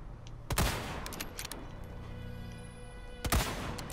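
Two loud shotgun blasts in Resident Evil 4 Remake, separated by about three seconds, each a heavy booming crack, with lighter clatter and a steady low background in between.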